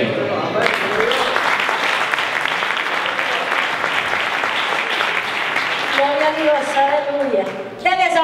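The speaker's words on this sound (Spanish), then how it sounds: "Denle ese aplauso más fuerte al Señor." A church congregation applauds during a wedding service, sustained loud clapping filling most of the stretch before a voice speaks near the end.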